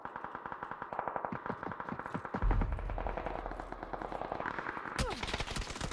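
Rapid automatic gunfire from the battle royale game PUBG, fired in dense, loud bursts that continue throughout with brief pauses between volleys.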